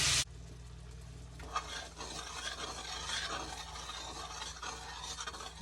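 Hamburger steaks fry in a pan with a steady, close sizzle and crackle that runs throughout, with occasional scraping or stirring noises and no talking.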